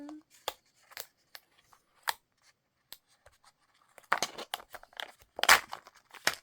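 Plastic wrapper of a Harry Potter Kinder Joy egg being torn open up close, with scattered sharp crinkles and snips early on, then a denser burst of ripping and crackling toward the end.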